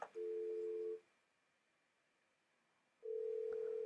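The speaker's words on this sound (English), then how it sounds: "So it rings where it's supposed to ring" A telephone ringback tone on a Cisco CUCM SIP trunk call sounds twice, a steady electronic burr about a second long, separated by a couple of seconds of quiet line hiss.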